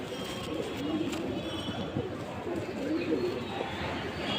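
Pigeons coo softly inside a loft of older nesting birds, low murmuring calls repeating under a steady noisy background, moderately near and with no talking.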